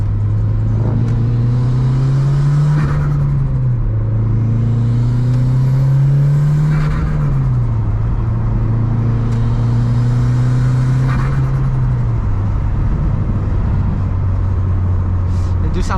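A Mitsubishi Lancer Evolution IX MR engine drones loudly through its exhaust, revving up in several rising pulls, each dropping back as it shifts, steady and close.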